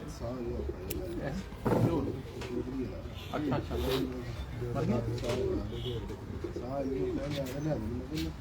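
Pigeons coo repeatedly in soft, rolling phrases close by, with people talking over them at a moderate level throughout.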